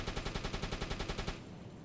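Rapid machine-gun fire rattles close by inside a U-boat in UBOAT, a steady fast burst of loud shots lasting over a second before cutting off abruptly.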